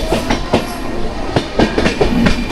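A train runs on rails through the green hills of the Araku Valley route, its wheels beating a loud, close, rhythmic clickety-clack.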